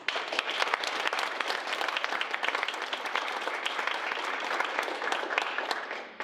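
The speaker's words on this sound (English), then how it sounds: "So let's give our family and friends a round of applause." An audience at a fall graduation reception breaks into steady applause, many hands clapping in a dense, even wash that carries on for several seconds and then fades at the end.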